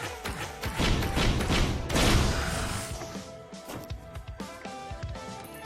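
Explosive attacks in the video game Risk of Rain, playing as the Huntress, burst out as a dense barrage of thuds and crashing blasts that taper into scattered smaller hits.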